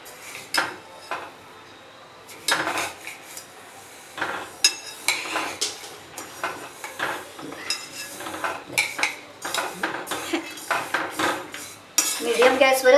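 Sesame seeds roasting over medium heat in a pan, stirred continuously, giving repeated clinks and scrapes of a utensil against the metal in an irregular rhythm, close and without talk.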